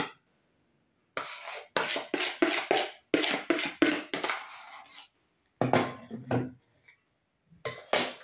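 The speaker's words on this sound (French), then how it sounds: "Je vais les mélanger délicatement au mascarpone sucré." Stiffly beaten egg whites being folded into sweetened mascarpone in a bowl, with bursts of scraping and clinking utensil strokes against the bowl in uneven runs separated by short pauses, close and fairly loud, with no talking.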